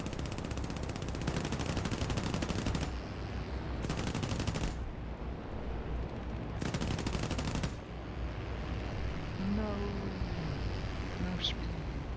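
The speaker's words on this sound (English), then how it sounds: "And open fire!" Three sustained bursts of machine-gun fire from a P-26A-34 M2 fighter in the War Thunder combat game rattle out loudly over a steady engine drone, separated by short pauses.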